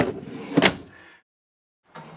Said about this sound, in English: fully extending drawers on both sides.